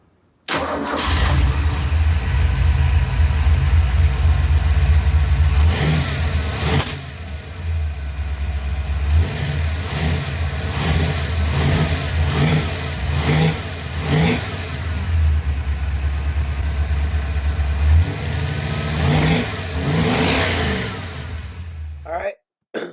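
A hot-wired car engine with a ported intake cranks and fires, then revs repeatedly in loud, close bursts over a rough idle before cutting off, with a person speaking briefly.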